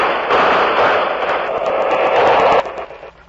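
A firing squad's loud, sustained burst of gunfire roars for a couple of seconds, then cuts off and fades, on a 1945 radio show.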